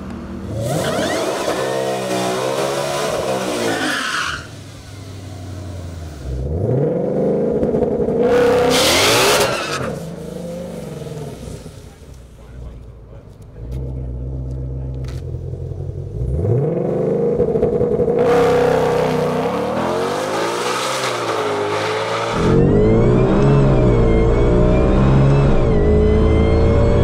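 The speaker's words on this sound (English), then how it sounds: "I'm gonna hop back in the gray car and try to get that 9-second pass" A Shelby GT500 drag car tuned for a 9-second pass on 93 octane fuel accelerates hard down the strip, engine revving loud and close through repeated gear changes with rising and falling pitch, no talking.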